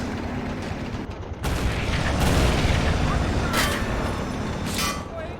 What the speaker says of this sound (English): Actually, we have the anti-aircraft gun.